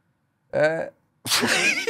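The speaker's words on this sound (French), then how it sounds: "Je vais éternuer." A voiced intake of breath is followed by a sudden, breathy sneeze burst, close and fairly loud.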